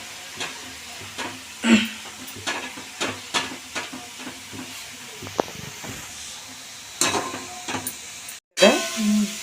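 Tomatoes and coriander fry in a pan for chutney, with a steady sizzle broken by irregular scraping stirs and spatula knocks, close and moderately loud, and a brief dropout near the end.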